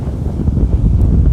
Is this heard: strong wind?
yes